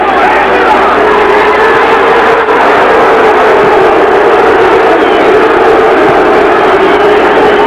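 Boxing arena crowd booing the referee at an amateur bout, a loud continuous roar of jeers that holds steady throughout without letting up.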